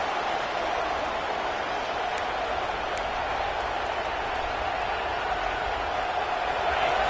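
A home crowd roaring at a football game as the defense lines up on third down, a dense steady wall of noise that holds throughout.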